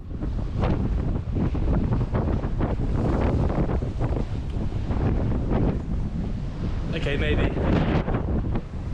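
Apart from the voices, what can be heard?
strong wind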